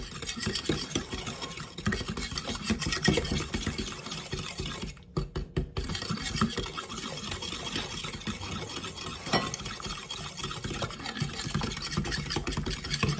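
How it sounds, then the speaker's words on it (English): Spoon stirring applesauce into a batter mixture in a bowl to break up clumps, a steady close scraping and clinking that runs throughout with one brief pause midway, no talking. "Now we are going to combine this well to get all of the clumps out."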